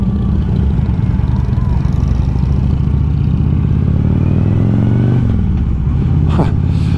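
A Harley-Davidson Electra Glide Police motorcycle rumbles along in a steady, low, close engine drone, with a gear shift and change in engine pitch near the end.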